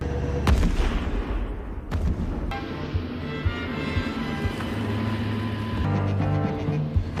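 German tanks idle with rumbling engines while practice cannon shots boom out, several sharp blasts landing over a continuous low mechanical drone.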